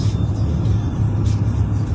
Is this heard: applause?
no